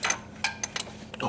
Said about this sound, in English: Oh no, I dropped my ratchet.